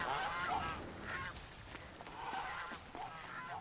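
Faint goose honks sound from a distance in Horizon Zero Dawn, several short calls spread irregularly across a steady outdoor hiss.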